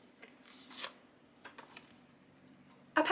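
Red cards are shuffled by hand, making a few soft riffling and sliding bursts close by, separated by quiet gaps, with a sharper flurry at the end.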